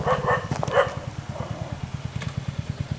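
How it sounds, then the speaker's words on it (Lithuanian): Dogs bark in a few quick bursts near the start, over the steady low pulsing of an idling motorcycle engine that continues after the barking fades. "O šunys užpuolė, aišku."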